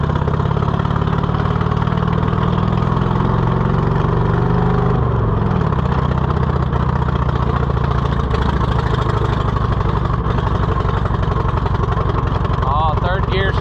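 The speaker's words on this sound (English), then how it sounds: "Let's see if our old friend the Cushman will run." An old Cushman utility vehicle engine running cold on a chilly day with the choke on, a loud, steady idling drone that holds throughout at close range.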